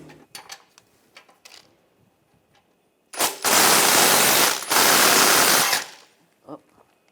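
A 13mm socket drives off the exhaust nuts on the front flex pipe of a 2014-2022 Chevrolet Trax: two long, loud, rattling power-tool bursts follow a few softer clicks and knocks nearby.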